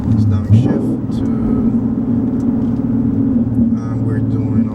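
A 2019 Ford Mustang GT Premium with a 6-speed manual, in track mode, rumbles steadily from inside the cabin as it downshifts at low speed, a deep continuous engine drone under talk.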